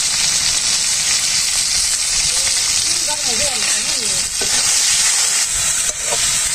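Salt, turmeric and chili powder fry in hot oil in a pan, making a loud, continuous hissing sizzle throughout, with a voice briefly heard in the middle.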